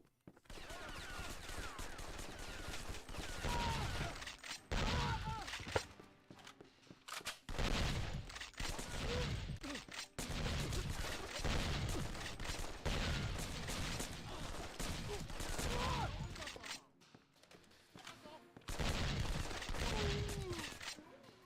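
Rapid gunfire in the PC shooter James Bond 007: Nightfire, sustained bursts of automatic weapon fire with brief pauses between volleys, loud and continuous over game ambience.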